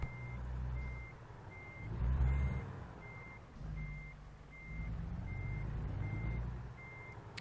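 In American Truck Simulator, a truck reverses with a steady, evenly spaced reversing beeper repeating about every half second over a low diesel engine rumble, with a brief hiss of air brakes.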